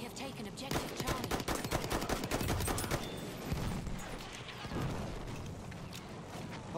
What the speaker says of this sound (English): Is he really shooting with an AA gun?